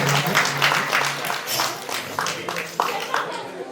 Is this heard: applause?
yes